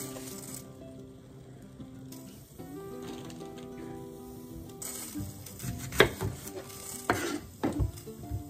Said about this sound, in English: Go ahead and cook our onions.